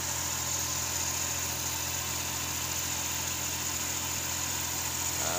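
A Suzuki DA63T multicab engine, which has a hard-start problem and stalls suddenly, runs steadily at idle after being restarted. It gives a constant, even hum with a low vibration and no talking over it.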